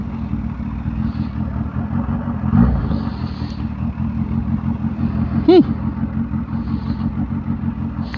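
Kawasaki ZH2 or BMW S1000RR motorcycle riding, a steady close engine drone with wind rush throughout, a brief louder surge near the middle and a sharp rising whine later on.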